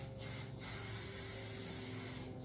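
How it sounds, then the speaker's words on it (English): Tresemme hairspray sprayed generously over short hair while styling beach waves, heard as a steady, continuous aerosol hiss that runs close and loud through the whole clip with no voices. "you're just going to go in with some hairspray"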